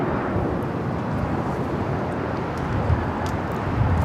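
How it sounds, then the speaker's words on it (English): A United Airlines Boeing 737-900ER takes off at LAX with a broad, steady jet roar that stays loud and constant, mixed with wind rumble. "Next takeoff is United Airlines flight 2449 heading to Vegas, the 737-900ER."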